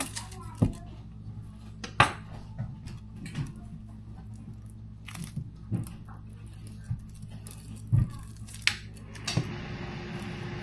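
Scattered metallic clanks and knocks of a pan being pulled out and handled in a home kitchen while cooking bulalo, sharp isolated hits over a quiet low hum, fairly close.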